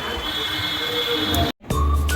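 A train at Vadodara railway station rumbles steadily with high metallic wheel squeal running throughout, cut by a brief dropout before heavier low rumble returns.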